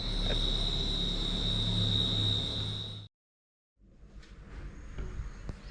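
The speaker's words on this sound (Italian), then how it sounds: "Dopo una notte cullati dall'assordante rumore dei grilli, lasciamo il villaggio." Crickets chirping at night in a Thai forest village form a loud, dense, unbroken drone that cuts out abruptly, then resumes more faintly after a brief silence.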